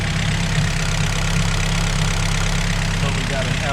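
A Honda LS VTEC GSR engine idles on a dyno while warming up, a loud, steady, close rumble with an even low throb throughout.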